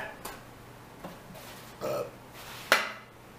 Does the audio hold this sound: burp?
yes